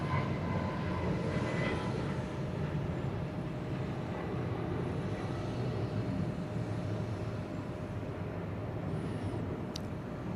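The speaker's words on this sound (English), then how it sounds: "WestJet 1831 headed off to Calgary." A WestJet airliner departs Atlanta airport bound for Calgary, its engine roar a broad, sustained rumble at fairly close range that holds steady, with a brief faint chirp near the end.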